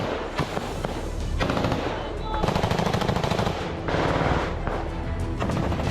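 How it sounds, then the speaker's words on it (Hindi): Heavy gunfire during an attack on a Russian soldiers' post near a village, with rapid machine-gun bursts and sharp shots. The bursts come in dense loud clusters separated by brief lulls. "गोलियों की आवाज से पूरा इलाका थर्रा रहा है।"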